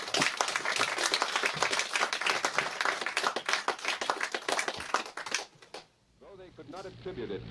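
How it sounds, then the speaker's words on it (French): Audience applause at a live public music recording in a media library, bright dense clapping for about five seconds that stops abruptly, followed by a voice speaking. "on va les applaudir pour les encourager"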